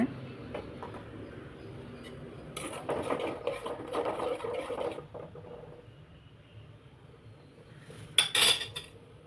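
A spoon scrapes and clinks against a metal pot while stirring spice powder, in bursts, fairly close, with a brief louder clatter near the end.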